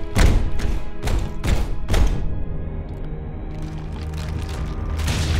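Grenades go off in a Warhammer 40,000: Chaos Gate - Daemonhunters battle, four heavy booming blasts in quick succession followed by a lingering rumble and scattered softer impacts.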